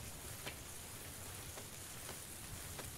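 Steady rain in the video game PUBG hisses continuously, with faint scattered drops tapping now and then, no voices.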